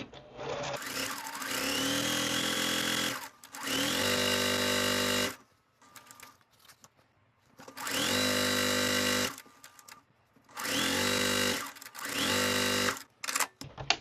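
A sewing machine stitches a quarter-inch quilt seam through fat quarter fabric, its motor whirring loud and close in four sustained runs broken by short quiet pauses.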